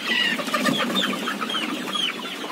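Chickens kept in a coop above a catfish pond cluck and chatter repeatedly, several birds close by, with short calls overlapping in a busy, continuous flock sound and no talking.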